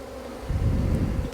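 Honeybees buzz around a cooler swarm trap, a dense droning hum that swells louder partway through and stays close.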